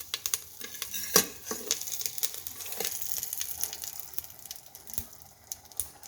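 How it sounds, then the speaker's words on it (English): Mustard seeds spluttering in hot oil in an electric cooker, a close, steady crackling sizzle dotted with sharp little pops, with no talking. "once after you hear this mustard sound, so then you can add curry leaves"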